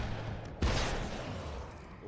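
A single gunshot in Alan Wake's American Nightmare, a sharp loud blast followed by a lingering noisy tail.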